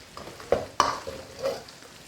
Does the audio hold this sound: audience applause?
no